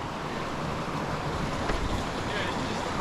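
Waterfall on the American River, heard as a steady, broadband rush of falling water that holds constant throughout, with some wind buffeting the microphone.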